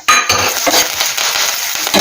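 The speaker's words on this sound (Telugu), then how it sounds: "ఇప్పుడు కరివేపాకు వేసేస్తున్నాను" Curry leaves hitting hot oil in a tempering pan for a brinjal garlic curry, a loud sudden crackling sizzle that bursts in and keeps spitting steadily close up, with faint stirring clinks.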